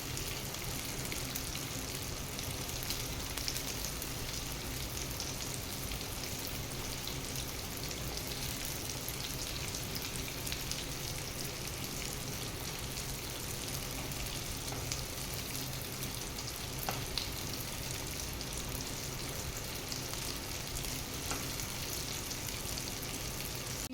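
Food coated in masala fries in a pan, giving an even, continuous crackling sizzle at close range with occasional small pops.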